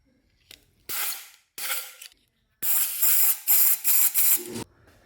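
Aerosol lubricant sprayed onto the cylinder walls of a Kawasaki ZX14 engine comes in short hissing blasts, two brief ones followed by a longer run of close, loud spurts, with faint mechanical clicks between.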